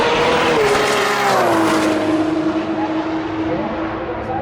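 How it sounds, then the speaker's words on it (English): A powerful drag car engine roars and climbs in pitch as it accelerates hard down a straight, loud and close, fading slightly toward the end. "they just put down all the big power drag cars, come out and just do some pulls"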